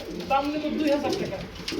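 Giribaz pigeons of Pakistani blood, two running pairs, coo softly at close range in a bird market while someone talks over them.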